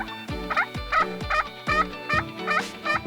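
Wild turkey gobbling in spring Québec hunting country, a run of about seven sharp rattling gobbles at a steady rhythm, loud and close, with no voices.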